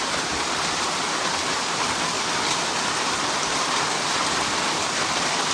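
Steady rain falling, a dense even hiss of drops on surfaces that stays constant throughout with no talk.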